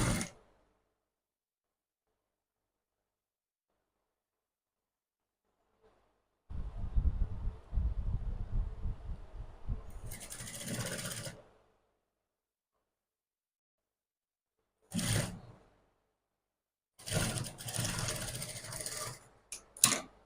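A sewing machine stitches a half-inch seam joining fabric pieces for a petal or tulip sleeve, running in several close, brisk bursts of rapid stitching separated by quiet pauses, with no talking.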